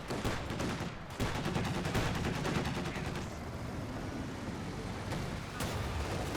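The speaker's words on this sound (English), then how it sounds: "M15 firing away." Gunfire from an M15 halftrack sounds in a Company of Heroes 2 battle as a rapid stream of automatic shots. Dense booms from other battlefield fire wash over it, with a short pause after the first second.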